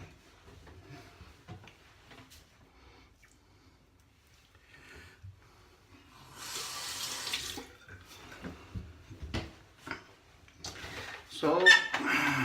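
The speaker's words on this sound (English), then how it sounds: "I just have to rinse off my hands" Hands are rinsed under a running tap in a bathroom sink, the water coming in a couple of splashing bursts between quiet stretches, with someone talking softly before and during the flow.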